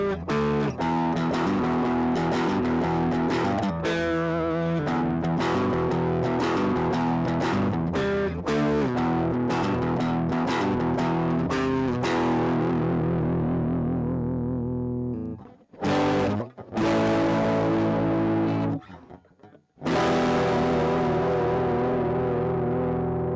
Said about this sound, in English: I have another overdrive pedal, spoiler alert, so I usually have this leaned a little more towards the distortion